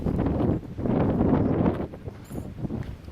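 Gusty mountain wind on the GR20 trail in Corsica buffets the microphone and a tent in loud rushing bursts that swell and ease, with faint rustling in the lulls.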